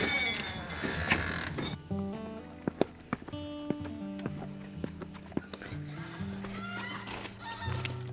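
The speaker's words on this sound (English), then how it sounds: "The flock of ducks is going through the backyard." Ducks in a backyard give a flurry of honking quacks and calls, some overlapping, close and moderately loud, with short clattering knocks between them and no talking.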